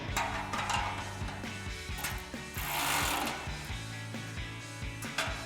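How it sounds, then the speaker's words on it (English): A ratchet and wrench tighten 13mm nuts on a Barricade Pre-Runner front bumper for a 2013-2018 RAM 1500, with quick repeated ratchet clicks and metallic clanks, close and alone. "we're gonna grab a ratchet and a wrench, tighten them down."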